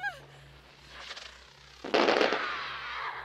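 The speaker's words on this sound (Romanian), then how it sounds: "I-a dat cu petarde!" Firecrackers bursting in a horror video game, a faint crackle around the first second followed by a loud sustained crackling blast near the end.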